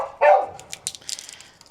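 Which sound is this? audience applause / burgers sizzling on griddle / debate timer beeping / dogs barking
dogs barking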